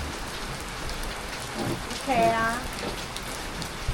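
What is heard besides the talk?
rain falling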